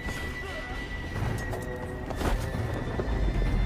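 A horse in the mobile game AC Creed Jad whinnies loudly over the steady clip-clop of its hooves, with a faint game ambience behind it.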